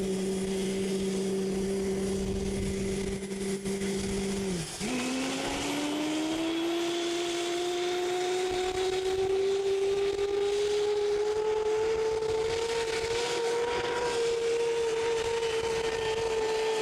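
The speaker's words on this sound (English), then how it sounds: "that's a smaller turbine engine spinning up right now" A steady mechanical whine slowly rises in pitch as a small turbine engine spins up, with a broad rushing roar beneath it, loud and continuous.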